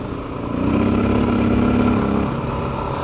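A Honda XR650L motorcycle's single-cylinder engine chugs loudly and steadily up close, a low pulsing throb that swells and holds, then eases slightly toward the end.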